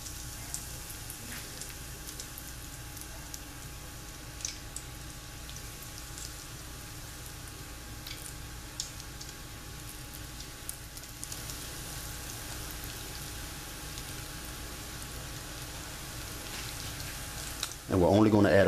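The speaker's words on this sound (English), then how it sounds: "once the oil get hot, you're gonna add your onion rings. And onion rings only take about 2 minutes to fry" Onion rings fry in hot oil with a steady, quiet crackling sizzle that runs throughout, like light rain, ending in a sudden louder burst at the close.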